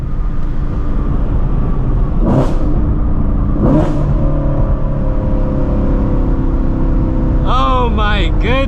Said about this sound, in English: That was my first hard pull in a minute in this car.